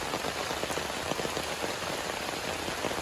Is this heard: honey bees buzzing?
no